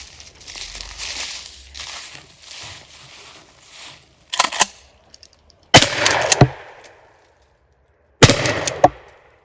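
Two loud, sharp shotgun blasts from a Hawk 982 firing 00 buckshot outdoors, each a sudden crack with a short decaying tail, the second arriving a few seconds after the first, preceded by quieter rustling handling noise.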